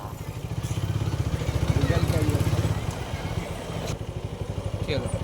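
An old, battered motorcycle carrying two riders putters along close by, its engine throbbing in a fast, even pulse that rises and dips slightly as it rides.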